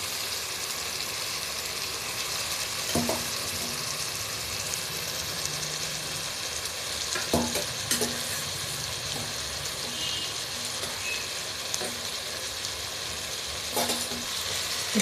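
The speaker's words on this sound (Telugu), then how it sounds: "సో ఆ చికెన్ మనం యాడ్ చేసుకుంటున్నాం" Boiled chicken tipped into softened tomatoes in a pan, giving a steady, dense sizzle throughout with occasional sharp clicks and scrapes from stirring.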